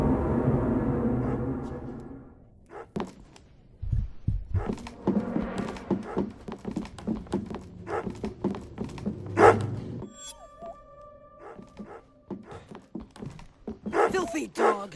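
A dog barks in the horror video game Remothered: Broken Porcelain, several sharp, separate barks set among footsteps, thuds and other game noises, with a voice speaking in places.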